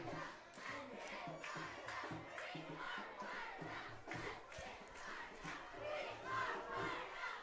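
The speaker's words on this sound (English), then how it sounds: "Still got a pretty good crowd here for homecoming." A large crowd at a high school homecoming football game roars and shouts continuously, a dense, steady wash of cheering and yelling with scattered voices rising above it.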